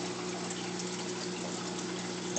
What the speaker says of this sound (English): I'll squirt a little water, especially the black ones, because that is their home.